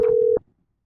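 Telephone line tone as a caller is connected to a podcast Q&A: one loud steady beep lasting under half a second that cuts off sharply into silence.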